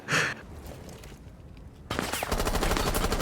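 Gunfire in the video game Rainbow Six Siege: a loud opening shot followed by quieter room noise, then a rapid burst of automatic rifle fire that rattles on to the end.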